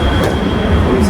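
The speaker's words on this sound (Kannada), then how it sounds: "Bus ಇಳಿದ್ವಿ, metro ಹೊಂಟಿವಿ." Inside a Bengaluru metro train, a steady loud rumble of the moving carriage runs throughout, with a faint rail squeal near the end; no talk.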